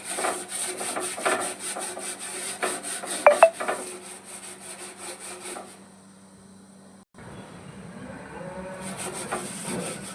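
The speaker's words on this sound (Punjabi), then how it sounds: "ਹੁਣ ਆਪਾਂ ਇਹ ਲੈਤਾ ਸਟੀਲ ਬੂਲ ਇਹਦੇ ਨਾਲ ਆਪਾਂ ਨੂੰ ਸਾਰੇ ਨੂੰ ਅਗੜਾਂਗੇ" Steel wool scrubbing a dirty gas stove, with rhythmic rasping strokes that are close and fairly loud, a pause, then lighter scrubbing again.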